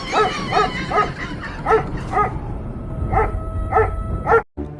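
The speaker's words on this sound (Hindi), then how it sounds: "जब कोई रात को कुत्ता भौंकता है" A dog barks repeatedly at night, sharp evenly spaced woofs in bursts of two or three, fairly close and loud over a steady low background rumble, with a brief silent gap near the end.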